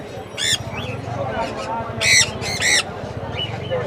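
Parrots such as lories squawk in repeated harsh bursts at a busy Mirpur bird market, several loud calls standing out over dense crowd chatter and background noise.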